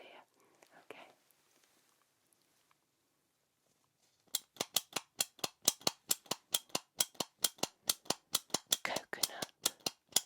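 A rapid run of sharp, bright ASMR clicks sounds close beside the left ear, steady and rhythmic after a few seconds of faint whispering and near silence.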